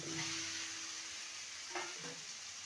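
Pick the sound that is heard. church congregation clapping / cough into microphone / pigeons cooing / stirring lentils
stirring lentils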